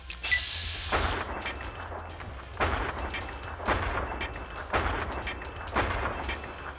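Heavy single gunshots firing armor-piercing ammo in Fallout New Vegas, about five booming reports spaced roughly a second apart, each followed by a rumbling tail, loud and without talk.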